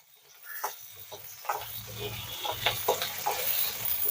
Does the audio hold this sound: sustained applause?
no